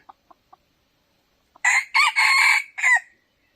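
A few faint clicks, then a rooster crows once nearby, a loud, drawn-out call in several broken segments.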